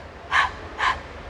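Two breathy, panting "h" exhalations, evenly spaced, voiced by an adult imitating the letter H sound during a children's phonics lesson. Clear, close and otherwise quiet, with a small click at the end.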